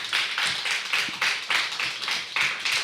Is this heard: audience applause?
yes